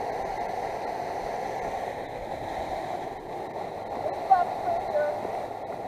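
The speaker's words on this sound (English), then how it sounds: "You can see the water really rushing in from that end." Water rushes steadily into the C&O Canal on the Paw Paw side, a continuous broadband roar that holds at an even, moderate level throughout with only slight swells.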